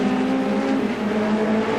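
A touring race car at Amaroo Park during the 1988 Australian Touring Car Championship round produces a loud, sustained engine howl with a steady pitch and a slight wavering as it runs hard.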